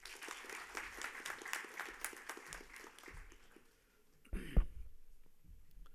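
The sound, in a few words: audience applause welcoming keynote speaker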